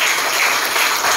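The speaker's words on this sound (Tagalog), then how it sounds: "Palakpakan natin yung paglalagyan ng Diyos" A church congregation claps steadily together during Sunday worship, a dense, even patter of many hands filling the room at close range for the whole moment.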